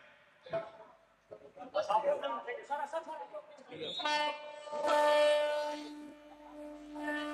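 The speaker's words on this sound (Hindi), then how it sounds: "अभनपुर से ये ट्रेन रवाना हुई है।" MEMU train departing on the Abhanpur-Raipur rail section, its horn sounding in long steady blasts under a crowd and amplified voices, loud and sustained toward the end.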